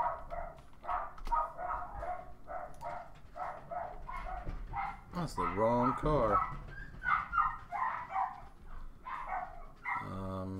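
Several dogs bark and yip in a rapid series of sharp, close barks with a short whimpering whine midway, while someone speaks over them.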